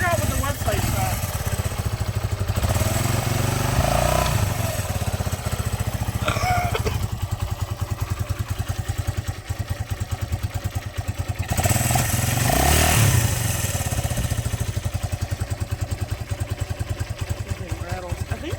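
A 125cc two-stroke engine runs steadily at a close, loud idle for the whole stretch, its buzzing drone joined by rattling and occasional muffled voices.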